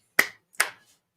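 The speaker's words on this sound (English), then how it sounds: "it's 2 claps." Two sharp hand claps sound close and alone, about 0.4 seconds apart, each dying away quickly into silence.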